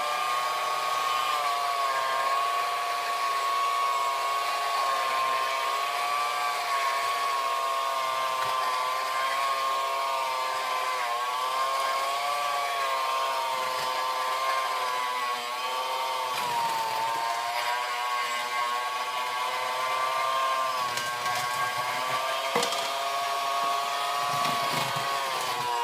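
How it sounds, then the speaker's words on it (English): An electric hand mixer runs steadily, beating four eggs into thick chocolate cake batter, with a loud, continuous motor whine that wavers slightly in pitch throughout and has no talk over it. "I'm going to add those in slowly with my mixer"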